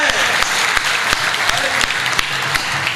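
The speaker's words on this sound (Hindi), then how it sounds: "एक बार ताली बजाओ तो मैं शुरू हूं" A live audience at a Hindi comic poetry gathering claps steadily and densely, a full round of applause filling the hall at even volume throughout, with occasional sharper individual claps standing out.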